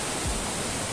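The Agur waterfall in Sochi National Park makes a continuous, even rushing roar of falling water, heard close and alone in a brief moment.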